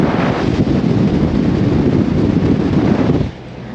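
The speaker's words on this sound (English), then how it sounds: "Now look at this wind we're going into." Strong wind roars into a car's open window while driving along a beach with a towed load, a loud continuous rushing buffet that drops off abruptly near the end.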